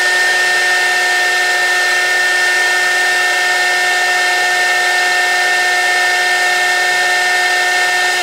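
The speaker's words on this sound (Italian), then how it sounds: "prendo un phon e vado a riscaldare il condensatore" A hair dryer blows a steady, loud whirring hiss with a constant motor whine, heating a capacitor on a Ferroli boiler control board that fails to power on; the drone runs unbroken and alone throughout.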